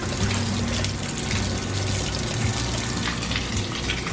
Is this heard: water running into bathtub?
yes